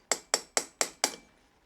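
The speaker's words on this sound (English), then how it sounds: "Just get a little punch and a hammer." Five sharp metal strikes of a hammer on a small punch, driving out a pin on a BMW F650GS motorcycle, evenly spaced and ringing briefly, with the last one decaying longer.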